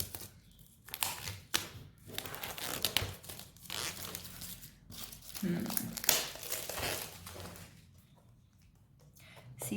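Paper crinkles and rustles close by during the unboxing of a craft kit, coming in irregular bursts of crumpling and tearing, with soft talking in between.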